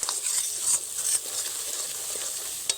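Dry spices being stirred with onions in a frying pan, a steady sizzle and hiss with light scraping strokes of the spoon, close and continuous with no talking.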